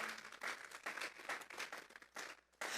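A church congregation claps as an offering of applause to God during a morning service, heard as a short, steady burst of many hands clapping together at a faint level before it quickly stops.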